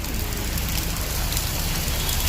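Rain pours down on the streets of Ludhiana, a dense, steady hiss of falling water with a low rumble beneath it and no voices.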